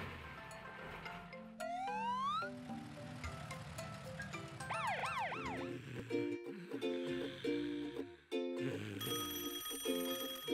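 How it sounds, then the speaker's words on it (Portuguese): A cartoon telephone rings in short repeated bursts amid busy background music and other cartoon sound effects. "O telefone está tocando."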